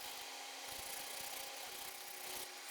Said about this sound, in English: Because this is a flat sanding block, it takes only the high spots off.